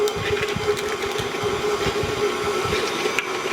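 An electric mixer runs on low, churning sugar, egg and butter into carrot cake cookie dough, giving a steady mechanical whir with a faint hum and uneven rattling from the beaters throughout, no voices.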